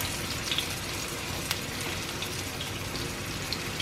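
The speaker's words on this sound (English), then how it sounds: "I put the pan on, I put some oil on, and warm up your pan, and then put in your meatballs" Meatballs frying in oil in a heated pan, a steady broadband sizzle with scattered small pops and spits, close and continuous with no talking.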